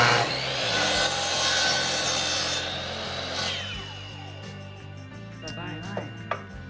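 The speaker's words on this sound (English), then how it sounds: "Now that we have cut our spindles, it is time to secure them to our bases." A hand saw cuts through wooden spindles taken from thrifted holiday decor, with rhythmic rasping strokes that fade out midway before a few light knocks and clicks close to the microphone.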